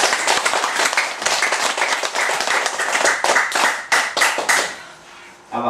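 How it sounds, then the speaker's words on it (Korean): A lecture-hall audience at a Buddhist studies lecture breaks into loud, dense applause that carries on steadily for several seconds, with many hands clapping close together and no talking over it. "박수 한번 더 크게 쳐보세요."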